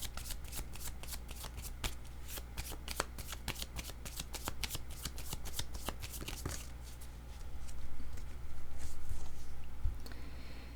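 Oracle cards being shuffled by hand, a rapid run of crisp riffling flicks for several seconds, then softer sliding and squaring of the deck, fairly quiet and close with no talk.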